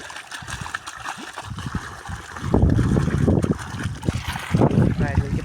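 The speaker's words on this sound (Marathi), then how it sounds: "झाले पाणी चालू." Irrigation water pours into a farm field, a close gurgling, splashing flow that grows fuller and louder partway through. A voice talks now and then over it.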